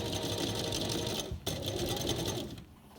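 A sewing machine runs steadily, stitching along the fabric edge of a hair scrunchie, with a brief pause partway through before the motor resumes and then slows near the end; no one speaks.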